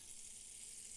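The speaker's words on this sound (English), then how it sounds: "I love that sound. So the butter is melting" Steady, bright sizzling of butter melting in a hot pot, a continuous hiss with no other sounds.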